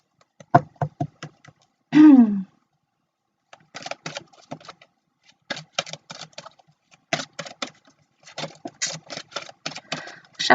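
Tarot cards being shuffled by hand, crisp rapid riffling clicks in short bursts separated by brief pauses, close and fairly quiet, with one short vocal sound early on.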